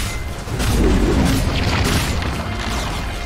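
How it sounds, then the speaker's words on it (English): Radiant's middle tower collapses in Dota 2 with a loud, deep booming crash that rumbles steadily for a few seconds with no voices over it. "Radiant's middle tower has fallen"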